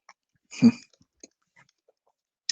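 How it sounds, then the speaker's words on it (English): Someone crunching a mouthful of beetroot during a keto dinner, one short loud bite-and-chew burst followed by a few faint scattered mouth clicks in near silence. "so you also get the chewing sounds of keto dinner, beetroot."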